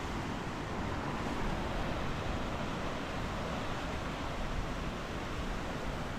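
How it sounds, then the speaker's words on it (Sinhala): Rough sea surf breaks on a beach at a Blue Beach Island camp in Sri Lanka, a broad continuous roar of waves mixed with wind, steady and fairly loud with no voices. "මුහුදේ රැල්ල නම් වැඩි රැල්ල නම් ගහනවා"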